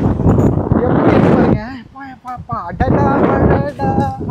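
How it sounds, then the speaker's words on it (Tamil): Strong gusting wind roars and buffets the microphone during a typhoon in Taiwan, loud and turbulent, with someone talking over it. "காற்று தான் அப்படி அடிக்குது, மழை வரல"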